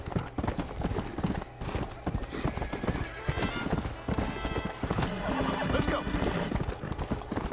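Horse hooves clip-clop in the video game Red Dead Redemption, a steady trotting rhythm of hoof beats close by, with a horse whinnying partway through over busy game sound.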